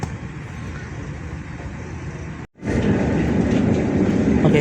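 KA Jaka Tingkir New Generation train departing Klaten station in Indonesia, a steady rumbling roar heard from inside the carriage, cut by a brief dropout before the rolling noise returns louder and fuller.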